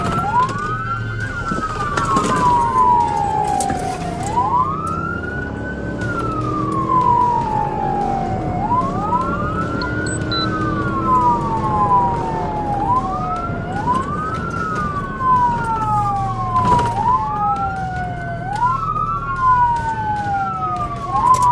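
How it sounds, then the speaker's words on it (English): Police car sirens wail in repeated rising-and-falling sweeps during a chase through a residential area, with road and engine noise underneath, loud and steady throughout. "When emergency lights and sirens activated, the driver fled through a residential area"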